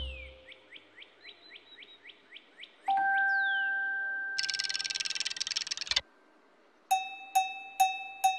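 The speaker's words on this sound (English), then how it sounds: "The home time bell." A home time bell in a children's garden setting rings as a sequence of chirpy electronic tones, a sustained ding, a buzzing burst, then four evenly spaced bright chimes, clean and alone with no talk.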